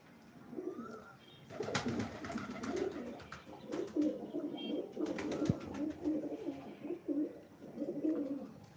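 Pigeons coo repeatedly in soft, rhythmic phrases, several birds close by, with occasional rustling and flutter in the background.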